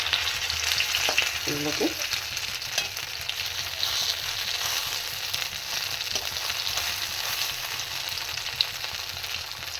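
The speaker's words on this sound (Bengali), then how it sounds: "এইভাবে আমি বাকি সব ভেজে নেবো।" Food frying to a golden brown in hot oil gives a steady, dense sizzle, with a few brief stirring scrapes near the start.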